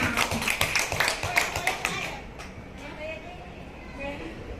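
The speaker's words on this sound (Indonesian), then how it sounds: "Yuk, mari kita kasih aplaus untuk semua" An audience gives a short burst of applause, with quick claps and taps for about two seconds before it fades into room murmur and talking.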